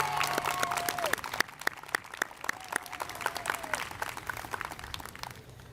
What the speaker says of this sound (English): If you can just give a big round of applause to our custodial crew.